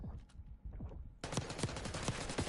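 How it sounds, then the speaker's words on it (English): Gunfire in a Call of Duty esports match, rapid automatic bursts with sharp cracks, first sparser and quieter, then a sudden dense, loud stream of shots that continues to the end. "Gunshots will go back and forth."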